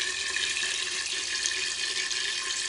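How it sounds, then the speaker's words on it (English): Water drains strongly from a pipe in an aquaponics greenhouse, a steady bright splashing pour that runs without pause, close and fairly loud, with no talking. "The smaller pipe is draining strongly, and the larger overflow pipe is just draining a tiny bit"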